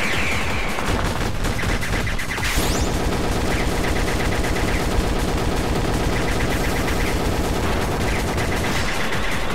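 Rapid, sustained gunfire in the shooter game Gundeadligne, dense machine-gun bursts rattling continuously and loudly with little pause, no talking over it.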